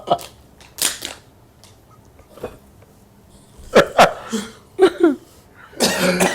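A few sharp, close coughs and throat-clearing bursts come in a loose cluster, scattered among quieter background sounds.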